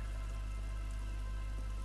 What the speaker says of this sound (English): Look at the rain. It's beautiful.